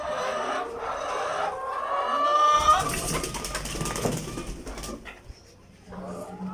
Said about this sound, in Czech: Máma, tady slepico!